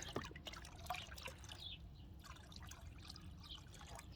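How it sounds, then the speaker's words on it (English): Water trickles and splashes as it is poured out of a gold pan while panning desert samples, with a few brief drips and gurgles over a soft, steady wash of flowing liquid. "let's take some of this water out of here"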